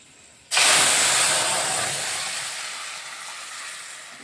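Boiled shukto vegetables hit a hot pan and set off a sudden loud sizzle that starts abruptly, then hisses steadily and slowly fades, with no talking.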